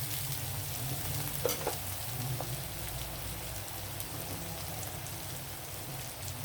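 Ginger, garlic and chili powder fry in a pan for chicken curry, a steady close sizzle and crackle with occasional clinks of stirring.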